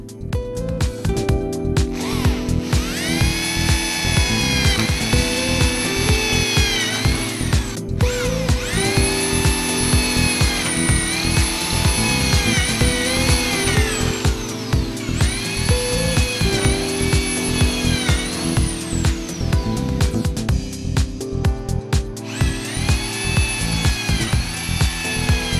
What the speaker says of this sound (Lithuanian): paėmėme lango rėmą ir gręžiame skylutes, kurios reikalingos tvirtinimo varžtais pritvirtinti lango rėmą prie sienos